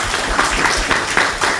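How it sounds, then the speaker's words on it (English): Audience at a public forum applauding, a close, loud, steady patter of many hands clapping without a break. "I think they all deserve a big round of applause for all of us."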